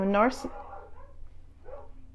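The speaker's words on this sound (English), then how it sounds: "Wow, my dogs are barking." Dogs in a home give a short bark and whimper, then a faint yip follows.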